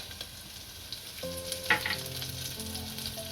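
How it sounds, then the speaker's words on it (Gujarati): Green chillies sautéing in a pan as the base for tomato soup, a soft continuous sizzle with light stirring scrapes and a sharper clink partway through, no voices. "મરચાં આપણે સારી રીતના સડી ગયા છે."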